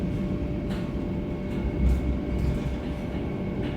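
Heard from aboard the Vande Bharat Express as it rolls into the first platform at Hubballi railway station, a steady low rumble of the moving train carries soft rail knocks, with no voices.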